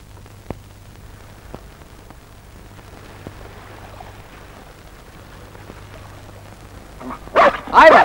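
A collie barks near the end in a couple of loud, close bursts, following a long stretch of quiet hum outdoors with a few faint ticks.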